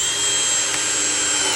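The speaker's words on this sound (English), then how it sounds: "So I'll tighten that up and go ahead and drive our 1 1/4 screws." A power drill drives 1 1/4 inch square drive screws, toenailed into the rail of a wooden side chair being assembled, giving a steady, close, high whine throughout.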